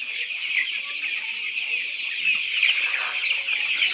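Chickens cluck and chatter steadily at a poultry farm, a dense, continuous flock noise close by with no clear pauses.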